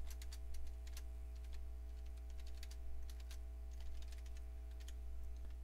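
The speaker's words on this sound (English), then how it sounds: "I'm gonna type in Windows XP Starter Edition." Typing on a computer keyboard, close and fairly quiet: a steady run of light key clicks in irregular bursts over a constant low electrical hum, with no talking.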